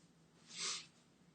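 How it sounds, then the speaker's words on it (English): A single short, sharp sneeze-like burst of breath, close and fairly quiet, in an otherwise hushed room. "I sneeze."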